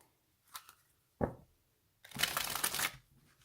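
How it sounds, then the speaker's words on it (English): A Desert Illuminations tarot deck is shuffled close up: a couple of soft card taps, then one quick riffle and a longer rippling shuffle, quiet, with no talking. "let's see how this deck shuffles"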